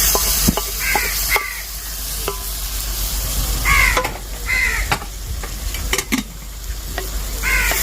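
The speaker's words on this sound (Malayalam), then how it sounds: "നമുക്ക് നന്നായിട്ടൊന്ന് ഇളക്കി കൊടുത്ത്" Cauliflower and green peas curry is stirred in a pan, with soft scraping and sizzling strokes repeating through the clip, while crows caw clearly in the background.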